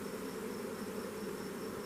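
Honeybees hum steadily inside an open hive, a dense, continuous buzz of many insects close by that holds an even level throughout, with no talk.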